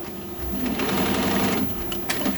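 An embroidery machine stitching in a custom embroidery shop runs with a steady, close mechanical whir and rapid needle rhythm, ending in a few sharp clicks likely from thread trimming.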